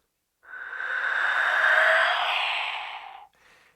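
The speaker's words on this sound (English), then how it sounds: "This is a handmade whistle I got in Mexico." Handmade whistle from Mexico blown in one long, steady breathy tone lasting about three seconds, close and loud, followed by a short faint second puff.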